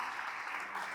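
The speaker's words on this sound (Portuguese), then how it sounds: "Você pode aplaudir o Senhor por isso?" Congregation applauding during a church sermon, a brief dense wash of clapping at moderate distance, steady and fairly faint.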